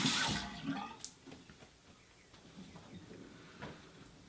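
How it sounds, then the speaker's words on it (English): Water splashing at a sink as a face is rinsed, a quiet burst of running and splashing water at first, then faint trickles and drips. "And then rinse it off."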